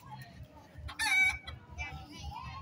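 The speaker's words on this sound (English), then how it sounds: "They got that chicken over there." A chicken clucks and gives a short, loud squawking crow nearby at an outdoor fall festival on a town square, with low rumbling background noise and a faint voice.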